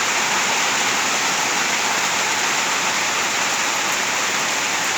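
Steady rain pours down outside a construction supply shop in Ram Inthra, Bangkok, a dense, even hiss of drops on surfaces that holds constant throughout with no voices.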